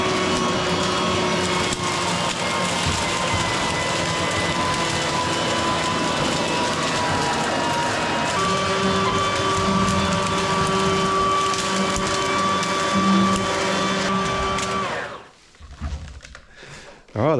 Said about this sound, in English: Got out the leaf blower. There it is, just the Ryobi brushless.